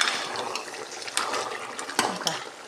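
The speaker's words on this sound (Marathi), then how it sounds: "पाहिजे तेवढं रश्श्याला पाणी घालून घेऊया." Water splashes and pours into a pot of mutton curry, with a few light clinks from the pot.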